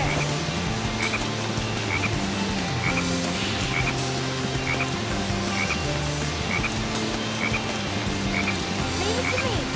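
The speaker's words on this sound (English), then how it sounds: "Look! There's a frog over there!" A frog croaking in the video game Sonic Heroes: loud repeated croaks at a steady pace over busy game music and effects.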